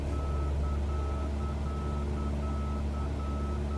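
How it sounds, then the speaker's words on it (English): A repeated electronic beep sounds at a steady, regular pace inside a moving vehicle, steady and moderately clear over the constant low road and engine rumble. "What is that beeping noise?"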